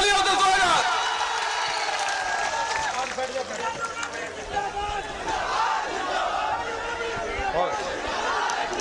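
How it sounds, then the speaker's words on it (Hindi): Rally crowd welcoming Tejashwi Yadav with cheering and applause, a dense, loud roar of voices and clapping that dips slightly midway and swells again, with shouts rising throughout. "जोरदार तालियों से स्वागत।"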